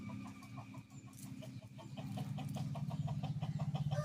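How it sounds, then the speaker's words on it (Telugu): Hens cluck steadily near their chicks, a close, busy run of rhythmic clucks that grows louder and more rapid toward the end, with no voices. "కోళ్ళు అయితే అరుస్తూ ఉన్నాయి పిల్లల్ని చూసి."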